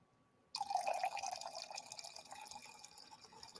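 Liquor is free poured into a glass, a sudden start of liquid streaming and trickling that gradually thins out, quiet and close with no talking.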